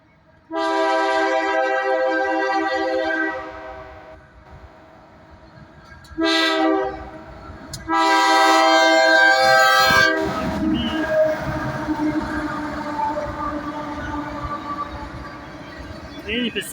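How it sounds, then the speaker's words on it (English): A northbound CSX ethanol freight train led by the Kansas City Southern Grey Ghost locomotive passes nearby, its horn sounding in long loud blasts followed by the rumble and rattle of the rolling cars. "It's supposed to be an ethanol train."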